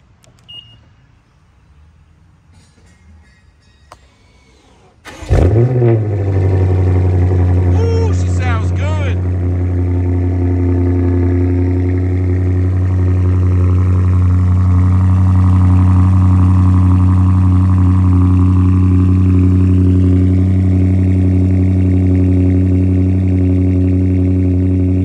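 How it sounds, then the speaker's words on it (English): A quiet lull gives way to a 2024 BMW M3 CS engine cranking and roaring to life on a cold start with a loud rev, then settling into a deep, steady idle rumble. "Let's get a cold start on this bad boy."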